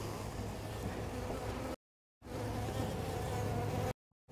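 A steady, dense buzzing of many bees close by around a beehive, broken by two brief silent gaps.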